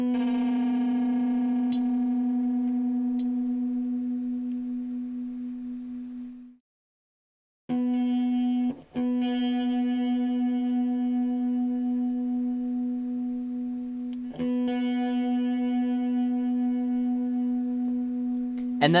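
A sustained, distorted electric guitar note rings steadily, cuts out, then resumes with slight pitch shifts and a few sharp plucks, loud and alone.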